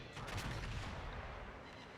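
Big 406 mm guns of the battleship Louisiana fire in a naval video game, giving a loud, dense low boom with a rumbling tail that fills the whole two seconds.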